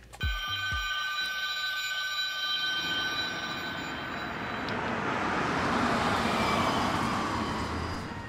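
An alarm clock rings with a loud, continuous metallic bell tone that keeps going for several seconds.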